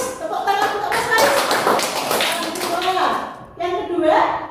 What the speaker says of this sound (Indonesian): Tepuk tangan untuk Mas Faris.